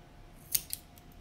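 Scissors cutting a paper card in two, heard as two sharp, close snips about a fifth of a second apart, against a quiet background.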